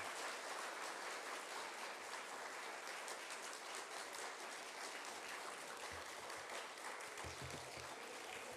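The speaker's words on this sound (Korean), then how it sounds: "우리 박수로 모시겠습니다." A church congregation at a Wednesday worship service applauds to welcome a newly ordained pastor to the pulpit, a sustained, even wash of many hands clapping from a room-filling crowd with no talking over it.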